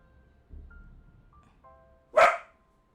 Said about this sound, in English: Indy, you can't just bark whenever you want, okay?